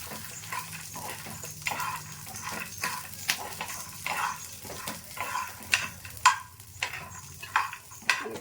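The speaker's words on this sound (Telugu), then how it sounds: "ఇందులోనే మనము పల్లీలు కూడా వేసేద్దామండి. వేరుశనగపప్పు వేసేస్తుంది. ఇది కూడా బాగా ఫ్రై అవ్వాలి." Peanuts and green chillies frying in a pan for peanut chutney, with steady sizzling broken by repeated scraping stirs that grow sharper and louder toward the end, close and alone.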